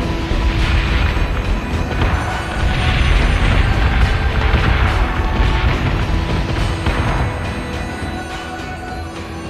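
Missile explosions in the Battlestar Galactica Deadlock space combat game: a sustained roar of booming blasts and rumbling detonations, loud and dense throughout, with no speech.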